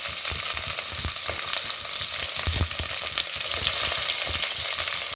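Onions sizzle and crackle in hot oil with curry leaves and red chillies, a loud, busy frying hiss with irregular pops and stirring clatters close by.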